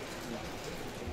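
Steady rain falls outdoors at a night funeral gathering, a soft, even hiss of drops with no breaks, fairly faint and continuous throughout.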